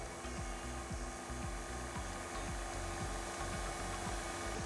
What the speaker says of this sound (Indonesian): Bahan dry ini kita aduk sampai tercampur rata dengan speed paling rendah.